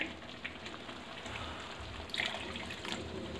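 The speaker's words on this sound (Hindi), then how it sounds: "तो मैं इसके लिए थोड़ा सा पानी और डालना चाहूँगा" Water is poured into a pan of mushroom, paneer and peas curry, a faint, continuous pattering trickle with a few small splashes, heard close and without speech.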